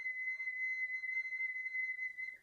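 A flute whistle tone, produced with a very fine, light stream of air, sustains as a thin, steady, high, pure note with faint upper harmonics, played alone and cut off abruptly at the end.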